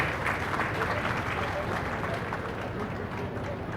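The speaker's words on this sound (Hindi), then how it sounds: "कृपया जोरदार तालियों से इनका अभिनंदन करें।" An audience at a commemorative gathering in Ahmedabad claps steadily throughout, a dense continuous applause with a faint murmur of voices underneath.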